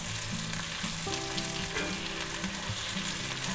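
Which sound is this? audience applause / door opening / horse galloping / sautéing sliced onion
sautéing sliced onion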